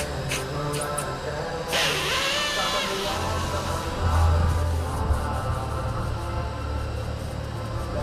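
A continuous hissing spray washes off car engine parts during a supercharger kit install, loud and steady throughout with a louder burst partway through, alongside a low mechanical hum and no talking.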